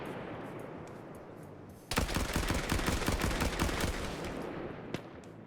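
Video game gunfire erupts suddenly into a dense, rapid volley of shots that keeps rattling for several seconds, with one sharp shot near the end.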